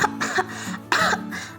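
A child walking home from school coughs in two harsh bursts, each made of a few rapid, close, raspy coughs.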